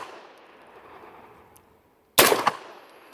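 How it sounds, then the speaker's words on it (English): A CMMG 9mm radial-delayed-blowback AR-9 rifle built on an Aero EPC lower fires a single sharp, loud, close shot after a quiet, hissing pause. "Shoot it closer."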